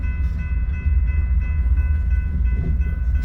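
A freight train heading east on the Creston Sub out of Council Bluffs rolls past with its single rear distributed-power locomotive, a loud, steady, close rumble with a droning engine hum and no talk.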